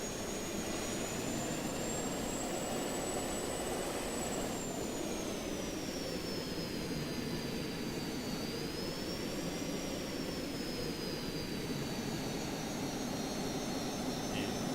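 A light plane's engine drones steadily in Just Cause 2, a sustained airborne whine whose pitch slowly rises and falls, loud and unbroken throughout with no voices.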